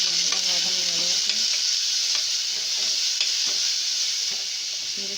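Ground onion paste sautés in a pan for a Tamil chickpea masala, with a steady, close sizzle and scattered stirring scrapes. No one speaks.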